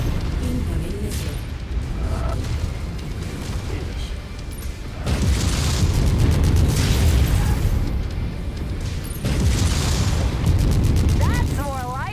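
Incoming missiles blasting in MechWarrior 5 Mercenaries, with repeated booming explosions and rumbling impacts in waves over a busy game soundscape, and a brief tonal warning blip near the end.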